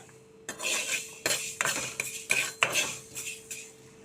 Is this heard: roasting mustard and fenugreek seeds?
yes